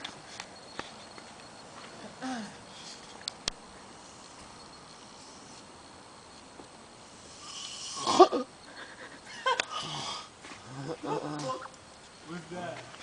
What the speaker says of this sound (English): And this is him snoring.